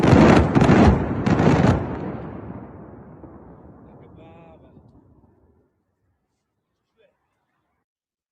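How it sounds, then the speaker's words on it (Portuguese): Bombing explosions at night in Tehran: a couple of loud, heavy blasts at the start, followed by a long rumbling decay that fades into near silence over several seconds. "Mais um bombardeio aqui em Teherã dessa noite."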